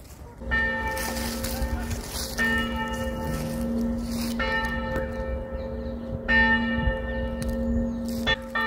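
Church bells in Dampierre, France ring out steadily with a rich, sustained tone, several fresh strikes renewing the clang over a low outdoor rumble.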